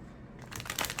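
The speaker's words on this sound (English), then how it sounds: "let's see if I can shuffle it" A large deluxe-edition oracle card deck is shuffled by hand, a quiet moment followed by a quick run of crisp card riffling and slapping, faint and close.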